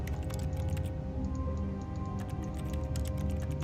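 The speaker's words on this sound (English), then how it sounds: "I'm left clicking and it just sounds like keyboard typing." Left mouse clicks in The Stanley Parable video game make a rapid clatter like keyboard typing, a dense run of light ticks over a steady low hum.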